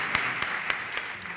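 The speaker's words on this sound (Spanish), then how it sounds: "Un aplauso para Pilar." Applause from a live audience at a cooking show and sherry tasting in Córdoba, a steady crowd clapping wash with a few sharper claps standing out, moderately distant and sustained throughout.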